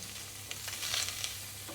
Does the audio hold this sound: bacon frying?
yes